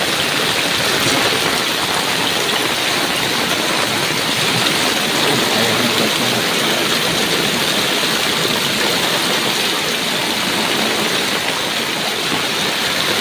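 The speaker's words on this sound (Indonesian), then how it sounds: "suasana hujan angin di salah satu pedesaan di Kabupaten Cirebon." Heavy rain falls steadily and loudly in a village in Cirebon Regency, a dense unbroken roar of drops drumming on surfaces all around.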